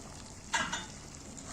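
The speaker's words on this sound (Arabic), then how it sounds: "كده بقى الميه بتاعتي بتغلي اهي" Steady bubbling hiss of water at a boil in a pot with rice and yellow lentils, with a brief louder burst of agitation midway; no voices.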